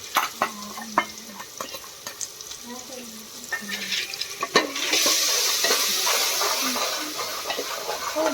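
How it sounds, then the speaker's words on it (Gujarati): Potatoes going into very hot oil, starting with scattered clinks and stirring scrapes, then a broad steady sizzle that rises and holds, with faint voices in the background. "હવે બટેકા મૂકી દો તેલ બહુ ગરમ થઈ ગયું"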